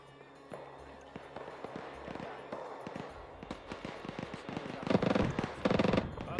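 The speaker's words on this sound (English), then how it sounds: "There's a ZU firing." A ZU anti-aircraft gun fires in Arma 3 in rapid repeated bursts, a dense rattle of sharp cracks that grows louder and heavier toward the end. Voices talk over radio under the gunfire.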